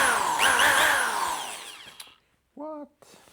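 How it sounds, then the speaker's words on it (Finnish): A power drill drives a pump as a test, whining loudly and winding down over about two seconds, followed by a brief tonal squeal and faint clatter near the end. "Katsotaan, laitetaan tämän poraan tuohon."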